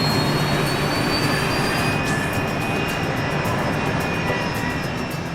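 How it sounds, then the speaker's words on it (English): Turbofan engines of a British-built BAE 146 commuter jet roar steadily and loudly, a constant broadband rush with a faint high whine, no voices. "Today, they're piloting a British-built BAE 146 commuter jet."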